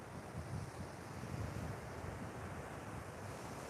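Sea surf rolling onto a sandy beach at sunrise in Thailand, a continuous low wash of breaking waves with gentle swells, mixed with steady wind rumbling against the microphone.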